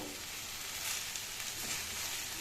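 Chicken rice frying in a pan and being stirred, a steady close sizzle with faint scraping over about two seconds, no voices.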